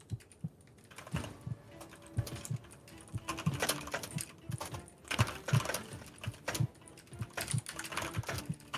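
Steady typing on a computer keyboard, a close run of quick, irregular key clicks with brief pauses and heavier thumps in between, continuing throughout with no voices.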